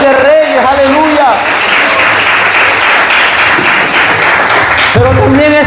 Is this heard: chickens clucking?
no